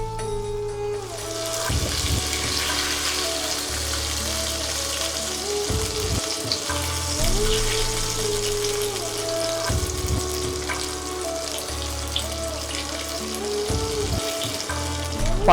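Pieces of pointed gourd (potol) fry in oil for a Bengali prawn-vegetable curry, giving a continuous, even sizzle close by, with soft music playing underneath throughout.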